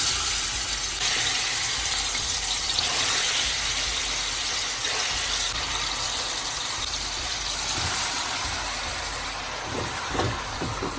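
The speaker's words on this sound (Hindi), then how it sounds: "अब हम इसमें डालेंगे मैरिनेट किया गोश्त" Marinated mutton hits hot oil in a pot for achar gosht, giving a loud, steady broadband sizzle that holds for the whole stretch, with a few clinks near the end.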